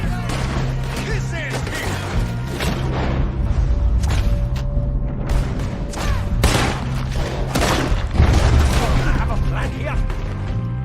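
Gunfire rings out in a Red Dead Redemption II shootout, with a rapid string of shots and thuds over constant game sound while voices shout.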